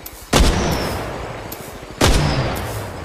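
Two loud, close gunshots about a second and a half apart, each with a sharp crack and a rolling boom that trails off, from sniper fire in a ranked battle royale video game match.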